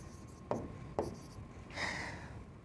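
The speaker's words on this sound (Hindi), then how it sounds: "लिख लेते हैं" Chalk or marker taps and strokes on a board during a classroom lesson: two sharp taps followed by a longer scratchy stroke, close and fairly faint.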